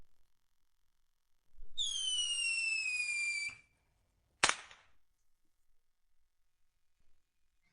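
A cloud-piercing arrow signal flare launches with a long rising, whistling screech of about two seconds, then bursts in a single sharp, loud crack, followed by a quiet tail.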